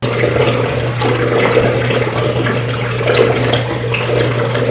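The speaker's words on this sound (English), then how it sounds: "The overflow made a horrendous gargling noise as water tried to rush down the tube" The overflow of a 22.4 gallon FijiCube nano reef tank gurgles loudly as water rushes down the tube, a continuous close, churning, bubbling flow with a steady low hum underneath; no speech.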